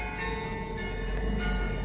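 Church bells ring in a sustained, fairly loud wash of overlapping tones that fills the whole stretch without any voices.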